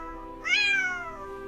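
A single cat meow, close and clear, rising quickly and then sliding down in pitch over about a second against a quiet steady background hum.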